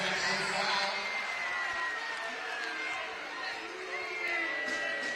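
A basketball arena crowd stirs into a steady roar of cheering and chatter during a BBL Championship game between Cheshire Phoenix and London Lions, sustained and broad under an overlying commentator's voice.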